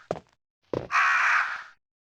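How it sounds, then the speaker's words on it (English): Crows caw in the original 1996 Resident Evil, preceded by two dull thumps, then one long harsh raspy caw rising loud and close before cutting off into silence. "Crows, my arch nemesis."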